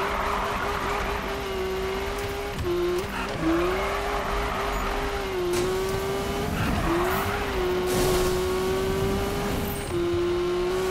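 A car drifting in the video game Need for Speed (2015) squeals its tires in long wavering screeches over a revving engine, the slides repeating one after another at close range.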